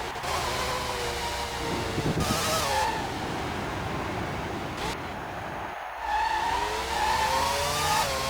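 A Ferrari Formula 1 car in the PlayStation game Formula 1 97 screams past at high revs, its engine whine rising and dropping through gear changes, with brief tire squeal and skidding noise over a constant loud roar.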